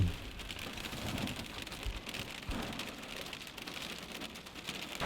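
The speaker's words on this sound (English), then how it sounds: "We've got a bit of a shower now" Rain shower pattering steadily on the ground and surfaces in the Elan Valley, Wales, between bursts of a hailstorm, a dense continuous hiss with occasional heavier gusts, close and fairly loud with no voices.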